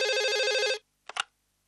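A telephone rings for an incoming call on a TV show, a loud warbling electronic trill lasting under a second, then silence and two quick faint clicks, with no talk.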